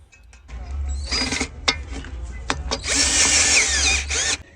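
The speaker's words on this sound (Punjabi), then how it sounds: "ਉਹਨਾਂ ਨੂੰ ਆਪਾਂ ਡਰਿਲ ਦੀ ਮਦਦ ਦੇ ਨਾਲ ਨੜਾਂ ਨੂੰ ਚੰਗੀ ਤਰ੍ਹਾਂ ਕੱਸ ਲੈਣੇ ਹੈਗੇ ਆ" A power drill tightening nuts on the angle stand of an outdoor air-conditioner unit, with loud close whirring bursts broken by short pauses and a sharp knock, then a longer sustained high-pitched run.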